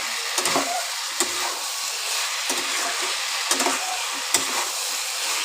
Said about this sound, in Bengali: এঁচড় আর আলুটা দিয়ে এইবার মশলার সাথে ভালোভাবে আলু আর এঁচড়টাকে কষিয়ে নেব